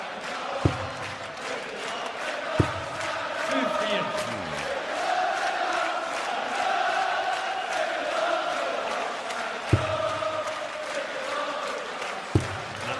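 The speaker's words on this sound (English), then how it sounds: "Crowd trying to rouse their heroes." A darts arena crowd roars steadily through a World Series of Darts Finals 2017 semi-final, a sustained wash of cheering and chanting with a few sharp thuds breaking through.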